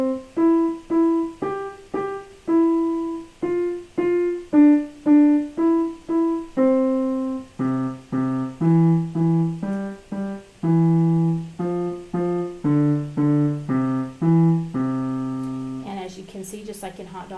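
A beginner piano song played with both hands, simple separate notes in a steady, even rhythm, first a single melody line and then fuller lower notes joining, close and clear, ending with a short noisy rustle.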